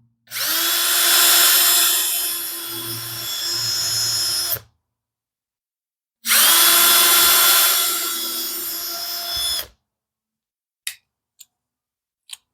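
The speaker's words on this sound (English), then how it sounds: "time to drill some pilot holes. Now I am using my countersink bit here" A power drill with a countersink bit bores pilot holes in cedar fence pickets for a raised garden bed: two loud whirring bursts of about four seconds each, separated by silence, then a few faint clicks.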